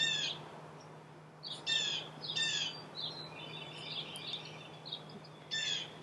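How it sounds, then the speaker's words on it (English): Birds call outdoors in quiet surroundings, a handful of clear, separate calls and chirps spaced irregularly over a faint steady hum, fairly near but soft. "You hear the call of the birds."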